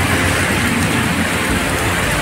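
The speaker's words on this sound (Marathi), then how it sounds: "भरपूर असा पाऊस पडतो आहे." Heavy rain pours onto a flooded street in a dense, unbroken roar, loud and close throughout.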